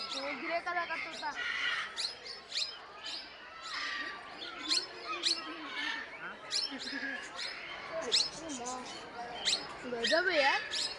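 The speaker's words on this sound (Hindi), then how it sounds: "ये देख वो ग्रे कलर का तोता" A grey parrot squawks in a busy aviary, giving repeated sharp, harsh calls mixed with chirps from other birds, with people talking nearby throughout.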